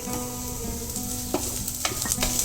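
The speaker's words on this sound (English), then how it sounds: "Fry the onion till it turns golden brown or translucent in color" Onion frying in a pan, a steady close sizzle broken by a few sharp spatula clinks and scrapes against the metal.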